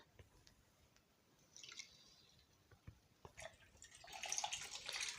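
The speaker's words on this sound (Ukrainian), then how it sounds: "заливаємо кипяченою водичкою наші огірочки." Quiet trickling and splashing of boiled water pouring into a jar of cucumbers, starting faint with scattered drips and building to a fuller, steadier pour.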